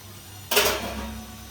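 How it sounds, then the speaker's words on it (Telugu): Water splashes into a cooking cucumber and prawn curry in a single sudden pour, a bright close splash that trails off into a low simmer. "కొన్ని వాటర్ పోసుకున్నాము"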